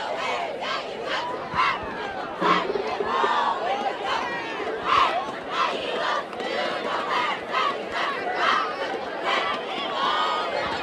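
Central football fans in the stands cheering and shouting loudly at a game against the Spartans, a dense roaring crowd with rising yells and chants, an announcer talking over it.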